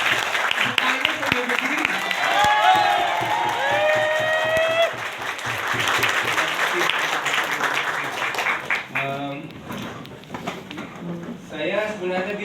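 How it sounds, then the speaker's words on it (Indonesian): An audience at a closing event gives sustained applause, a dense wash of clapping with some cheering and whistle-like calls. It trails off into scattered claps. "Saya minta semua teman-teman tepuk tangan."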